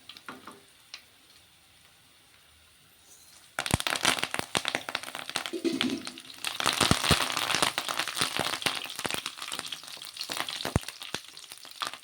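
Curry leaves hit hot oil for tempering after a quiet start, bursting into loud, sharp crackling and spitting that settles into a busy sizzle.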